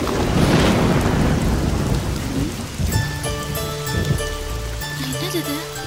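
Heavy rain pours steadily, with rumbling thunder rolling through and a tonal music-like layer entering partway, loud and close throughout.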